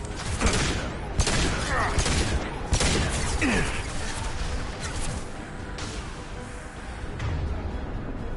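A concussive shot power blasting in Mass Effect 2 amid a busy firefight, with loud close impacts, mechanical clanks and scattered gunfire running throughout.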